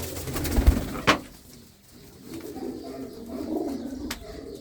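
Pigeons coo in a coop where large female birds are kept, a soft, continuous murmur of low cooing throughout, with a brief sharp knock near the start.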